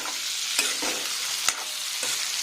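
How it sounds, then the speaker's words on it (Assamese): Pork curry with three whole chillies is stirred in a pan: a constant sizzle with a few sharp scrapes and knocks of the spoon, close up and without talk. "এইখিনি লৰাই দিম এতিয়া"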